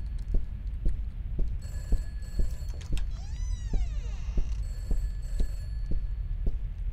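An in-game telephone rings inside Peters house in a horror video game, bursts of bell tone sounding over a steady, rhythmic heartbeat-like throb and low hum, with no talking.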